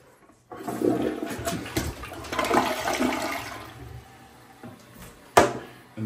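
A newly installed toilet with a top-mounted flush mechanism is flushed, giving a loud rushing gush of water that swirls and drains for several seconds, ending with a sharp clunk of the mechanism resetting.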